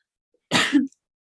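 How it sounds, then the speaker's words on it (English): A single short, sharp sneeze, close and fairly loud, alone in silence. "I'm gonna sneeze here"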